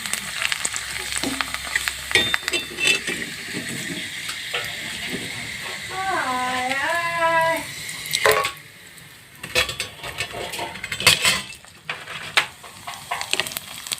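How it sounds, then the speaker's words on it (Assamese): Papad sizzles and crackles in hot oil in a kadai, a close, continuous frying hiss with occasional clinks of utensils, while someone speaks over it. "তেলটো গৰম হোৱাৰ পিছতে মই ইয়াতে পাপৰ পুৰি ল'ম এয়া পাপৰ পুৰি আছোঁ"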